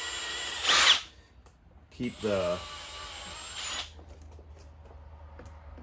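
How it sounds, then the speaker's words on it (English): A power drill whirs in two short bursts while drilling a larger hole for a pool salt controller cover, the second longer and revving as it bites into material, with a brief spoken remark between them. "I'm going to drill a much larger hole."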